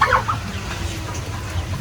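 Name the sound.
month-old chicks clucking in new pen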